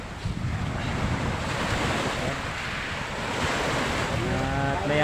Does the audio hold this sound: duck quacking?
no